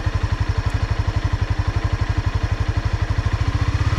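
Honda CBR 300R beginner motorcycle engine running steadily as the clutch is let out with light throttle, a close, loud, even low thumping pulse that holds throughout with no talk.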